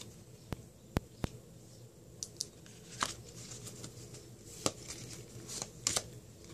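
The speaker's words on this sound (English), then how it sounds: "now I'm going to pull 9 cards" Tarot cards drawn one at a time and laid down for a love reading, heard as soft, scattered flicks and light slaps of card stock, a few sharp snaps among quieter rustles, close and without talk.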